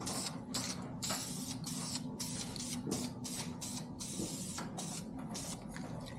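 Black spray paint hisses from an aerosol can onto a BMW E36 engine block in short repeated bursts, each spray a sharp airy rush separated by brief pauses, close and fairly soft.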